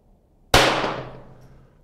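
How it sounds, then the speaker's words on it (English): A single sharp shot from a Kadet pistol on a bullseye range, a loud close crack with a ringing decay and no other sound. "Okay, next five shots."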